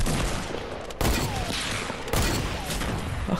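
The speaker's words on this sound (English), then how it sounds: "I killed someone with a hunting rifle" Hunting rifle gunshots in the Fortnite video game crack loudly, with roughly three heavy blasts a second apart, each trailing into noisy reverberation.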